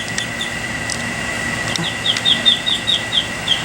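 A trapped duck moves back and forth, giving faint repeated squeaky calls and rustling over a steady outdoor background hum, with no talking.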